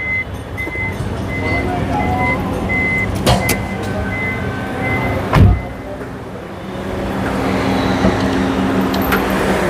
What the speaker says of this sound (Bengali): গাড়ি কিন্তু স্টার্ট ভাইয়া স্টার্ট আছে